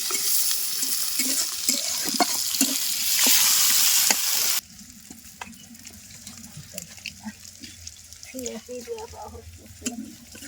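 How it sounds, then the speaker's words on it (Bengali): Duck meat and duck skin frying in oil with green chilies in a village kitchen: a loud hiss for the first few seconds settles into a quieter crackling sizzle, with scattered stirring clinks throughout. "আশের গোস্ত আশের চামড়া তেল দিছি আগে কাঁচামরিচ দিয়ে দিলাম"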